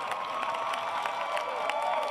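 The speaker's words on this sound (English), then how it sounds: "That was not an encouragement to clap." An audience claps steadily at a Martin Luther King celebration. The dense, continuous applause holds at an even level, with a few faint shouts mixed in.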